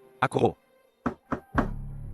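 Knocking on a door: two quick raps, a pause, then two more, close and clear, followed by a low rumbling sound.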